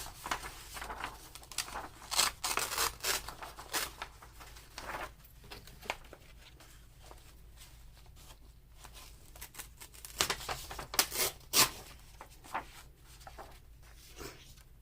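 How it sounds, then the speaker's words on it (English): Paper torn by hand in a few quick bursts while crafting a December daily journal page, with soft rustling and handling noise between the rips, close and fairly quiet. "I don't know how I want to tear it, so... Let's do it by hand, I guess."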